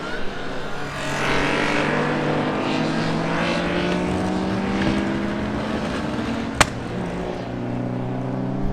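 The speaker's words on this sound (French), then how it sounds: "La 911 essaie de repartir mais visiblement elle ne peut pas." A Porsche 911 damaged in a crash with a BMW during the Tour Auto 2020 classic rally, its engine droning steadily as it struggles to pull away, with a brief sharp crack near the end.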